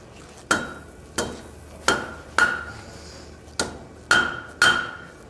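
Blacksmith's hammer blows on a scarf weld at the forge, seven sharp ringing metallic strikes spaced about half a second to a second apart, each with a short ring-out, loud and close over faint background noise.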